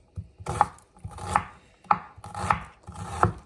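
A knife chops food on a cutting board in five distinct, evenly spaced strikes, close and crisp with no talking.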